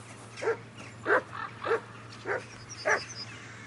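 Mutt, a dog in the video game Kingdom Come: Deliverance 2, gives five short barks and yips spaced about half a second apart over a low steady hum, fairly close, with no talking.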